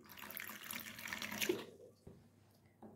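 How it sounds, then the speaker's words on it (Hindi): Water pours into a small bowl holding red chili powder, turmeric and asafoetida, a brief splashing trickle that fades out, followed by a couple of faint clinks. "इसमें हम डालेंगे पानी।"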